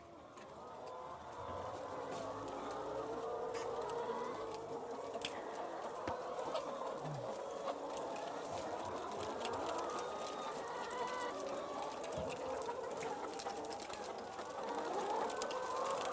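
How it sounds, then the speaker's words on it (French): Flock of hens in an egg-laying farm building, continuous overlapping clucking and murmuring calls from many birds, dense and steady throughout. "Donc les poules, ce lot de poules"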